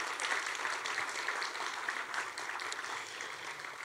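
An audience claps at a college science and mathematics senior awards banquet, a dense, steady round of applause lasting throughout at moderate distance.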